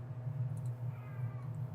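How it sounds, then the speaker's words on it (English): A pet cat named Skitty meows and whines plaintively in a couple of drawn-out cries, heard close over a steady low hum. "Do you guys hear my cat's miserable whining and meowing?"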